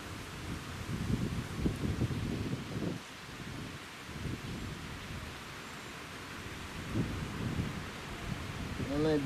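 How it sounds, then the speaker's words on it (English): Gusting wind blows outdoors around a tree stump at a bushcraft fire-lighting spot, rising and falling in soft rushing surges that stay fairly faint. "Oh, wind's blowing again."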